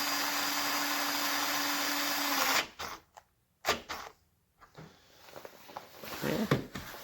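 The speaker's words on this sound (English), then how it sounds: "Just for fun, I'm going to see if it can drive in a small bolt." A Performax 4V cordless screwdriver whirs steadily while driving a small bolt, then stops abruptly, leaving a few short bursts and faint handling noises.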